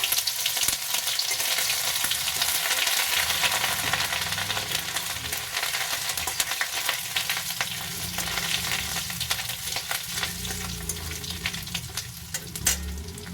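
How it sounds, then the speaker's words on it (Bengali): Five-spice and dried red chilies sizzle steadily in hot mustard oil, a close, continuous frying hiss with occasional stirring clinks, no voices. "দিয়ে দিচ্ছি আমি 5 ফোড়ন, শুকনো লঙ্কা ফোড়নে।"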